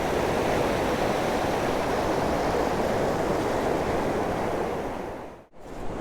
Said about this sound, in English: The surf is really kicking up here at the moment.